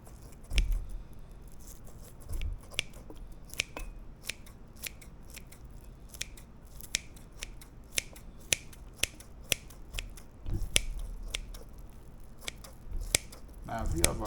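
Kitchen scissors snip through ham in quick, close, repeated cuts at an irregular rhythm, the sharp clicks fairly quiet over faint background handling.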